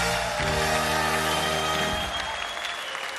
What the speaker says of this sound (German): Sie können ruhig mal aufstehen und für sich selber klatschen.